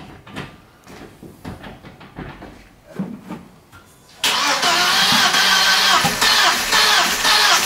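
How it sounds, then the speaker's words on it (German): A few clicks and small knocks, then a VW Passat B5 engine cranks and catches, settling into a loud, steady idle up close. "dann bitte einmal den Motor starten"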